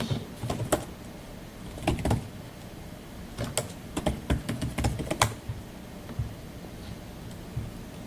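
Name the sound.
typing a password on a computer keyboard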